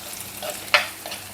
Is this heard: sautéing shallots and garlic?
yes